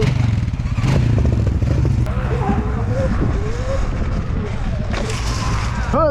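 Dirt bike engine on a backyard dirt track, a loud steady buzzing drone with rising and falling revs and a sharp throttle blip at the end, with people talking over it.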